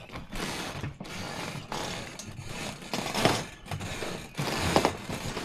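A loud dock at Wakonda in Missouri creaks and clatters as someone walks on it, with repeated rhythmic groaning and rattling bursts about once per second, close and continuous with no talk.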